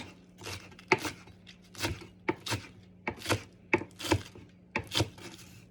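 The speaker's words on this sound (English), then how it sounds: "So we're going to take our scallions and we want to make them look nice and pretty. So we're going to cut them on a bias." A knife slicing scallions on a bias against a cutting board, producing about ten crisp, close chops in an uneven but steady rhythm with no voices.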